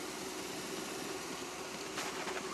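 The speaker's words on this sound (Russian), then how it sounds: "Это холостой ход. То есть сейчас где-то 750 оборотов." A Veter all-terrain vehicle's engine idles at about 750 rpm in winter, giving a steady, fairly quiet low drone with a constant hum and no change in pace throughout.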